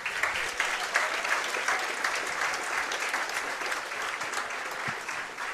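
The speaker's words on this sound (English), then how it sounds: "But how about a round of applause for all these players?" Sustained round of applause from a crowd at a bowling alley honoring professional senior bowlers after a stepladder final, steady and fairly loud throughout with no talk.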